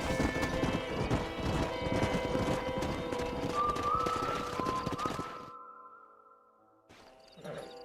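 Horses in the Red Dead Redemption video game clop steadily on hooves, close and busy, and one gives a long whinny before the hoofbeats drop away. A faint sound returns at the end.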